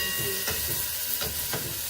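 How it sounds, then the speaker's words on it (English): Steady hiss of vegetable pieces sizzling in hot oil, with a few soft scraping bursts as they're stirred; close and continuous. "All the pieces of vegetables, and they're sort of like sizzling in oil"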